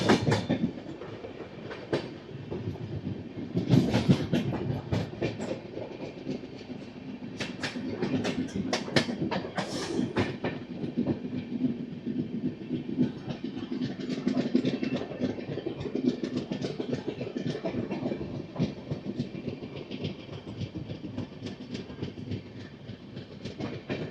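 The Andhra Pradesh Superfast Express, train 20805 from Visakhapatnam to New Delhi, runs through Mathura Junction with steady clickety-clack of wheels over rail joints and a constant rumbling roar, loud and sustained without pause.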